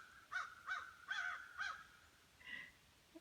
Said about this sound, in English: it's the crow and the frog